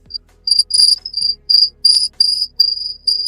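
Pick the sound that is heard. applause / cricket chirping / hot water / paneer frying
cricket chirping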